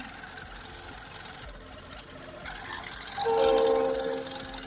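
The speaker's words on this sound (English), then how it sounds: "Hear the train out there." A train rumbles by in the distance, a steady low roar that swells near the end as a tonal horn-like whine rises over it.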